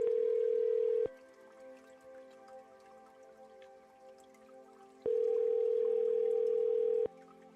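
A phone ringback tone on a VoIP call, two long steady beeps about four seconds apart, clear and alone with faint background hiss between them.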